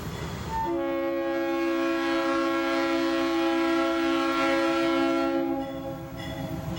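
A Monongahela Railway coal train of rotary gondolas sounds a loud, sustained multi-tone air horn for several seconds nearby, then it cuts off, leaving the rumble of passing cars.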